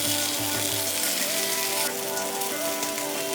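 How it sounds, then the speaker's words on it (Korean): Vietnamese grilled pork chops in a lemongrass marinade sizzle and spit loudly as they brown under an oven broiler, a dense, continuous crackling hiss close up with no pauses. "고기가 어느 정도 익었을 때 브로일 기능으로 온도를 올려서 겉면을 구워내줍니다."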